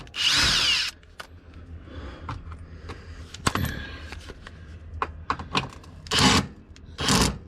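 A power tool whirs in three short bursts, removing four 10 mm bolts from a plastic shield under a Lexus IS250, with metallic clinks and rattles of loose bolts and tools between the bursts.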